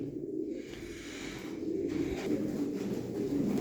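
Domestic pigeons coo softly in a loft of old-breed birds, low repeated throaty coos close by over a steady faint background hum, with no talking.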